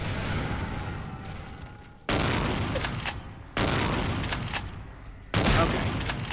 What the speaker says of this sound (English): Shotgun to the face should be enough, but it's not.